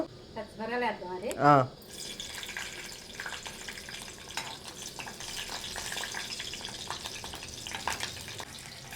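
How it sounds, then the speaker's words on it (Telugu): Green chillies fry in hot oil as a tempering for semiya pulihora, a close, steady crackling sizzle that runs after a brief burst of voice at the start. "పచ్చిమిరకాయలు కొద్దిగా వేగిన తర్వాత తాలింపు గింజలను వేసేస్తున్నానండి"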